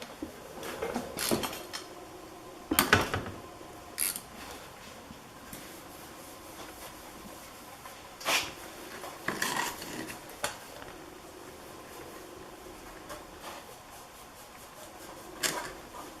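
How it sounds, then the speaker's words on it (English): Metallic clanks, scrapes and wrench rattles come in irregular bursts while a banjo fitting bolt is loosened on the front brake line of a Honda CB750 motorcycle. They are close and moderately loud, with quiet stretches between. "take our line and loosen this bolt that goes through our Banjo fitting."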